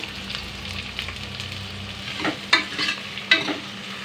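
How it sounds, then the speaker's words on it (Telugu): Long-sliced onions, three medium ones, sizzle in hot oil for a chicken curry, with steady frying hiss and a few louder stirring scrapes toward the end. "3 మీడియం సైజ్ ఆనియన్స్ చూడండి పొడవుగా కట్ చేసి పెట్టుకున్న. ఇది మొత్తం వేసేద్దాం. ఆయిల్లో మంచిగా ఫ్రై కావాలి."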